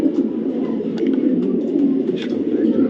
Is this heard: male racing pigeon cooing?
yes